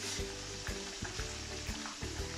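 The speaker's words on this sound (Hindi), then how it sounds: "इसी तरह हम फिश को हम फ्राई कर रहे हैं" Fish fingers fry in hot oil with a dense, crackling sizzle, and a steady hum with periodic low thumps runs beneath it.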